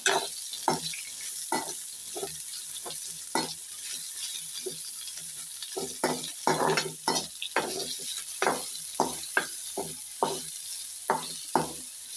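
Onions sautéing in a pan give a steady sizzle while a spatula stirs and scrapes in irregular rhythmic strokes, close by, with no talking.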